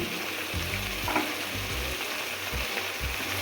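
Cumin powder, coriander powder and green chilli paste frying in a pan for dum biryani, a low steady sizzle with repeated soft scraping strokes of a stirring spoon, no voices.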